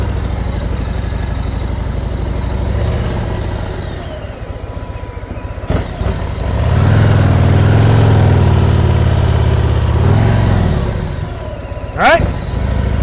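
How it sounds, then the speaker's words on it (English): Motorcycle engine during slow-speed riding practice, idling and then swelling into a revving rise in the middle before settling back, with a sharp click near the end. "Always listening to your engine."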